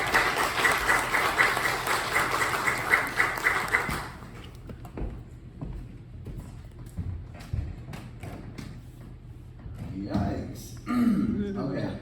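A church congregation applauds to welcome a preacher, a deacon candidate, at Sunday Mass on the Second Sunday of Easter. The clapping is full for about four seconds, then thins into scattered thuds, footsteps and faint voices.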